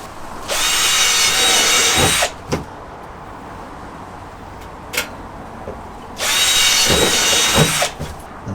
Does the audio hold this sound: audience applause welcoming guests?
no